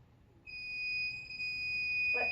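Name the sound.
buzzer of a homemade alarm system going off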